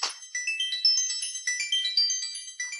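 A mobile phone ringtone plays a loud, bright electronic melody that repeats in short, rising note patterns, with no other sounds.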